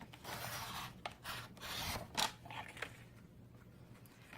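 Scissors or a blade cutting along the edge of a recycled greeting card, with short faint snips and rubbing scrapes in uneven bursts, close and quiet with no talking.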